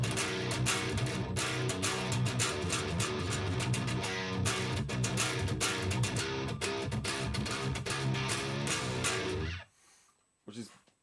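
Heavy, distorted baritone guitar with old, dead strings, run through a Headrush into a stereo split of a Soldano and a Mesa-style treadplate amp, chugging riffs played loud and continuously for about nine seconds before cutting off to near silence.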